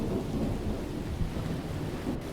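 Thunder rumbles steadily through a rainstorm in a Rec Room fishing game, a dense low roar with rain hiss that never lets up across the stretch, fairly loud and with no voices.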